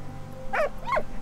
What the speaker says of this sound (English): Oh, little puppy.